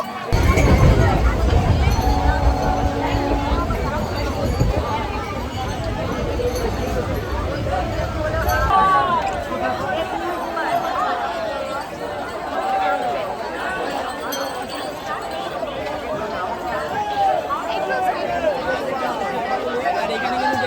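A dense crowd of pilgrims on the Tarakeswar Yatra pours off a train at Sarapuli station, with loud, continuous babble of many voices and shuffling that thins a little after the first few seconds but keeps going throughout.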